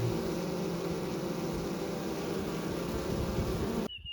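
Gentle honey bees buzz around an open hive in a Texas bee yard, a steady close drone of many wings that holds at one level, then cuts off abruptly just before the end.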